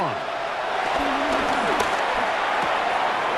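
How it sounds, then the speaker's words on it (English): Steady stadium crowd roar in Madden NFL 26 fills the whole stretch, a dense wash of cheering noise that swells slightly on third down, with faint game sounds mixed in. "Crowd noise rises"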